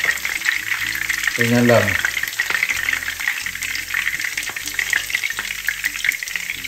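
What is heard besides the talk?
beef sautéing briefly in a pan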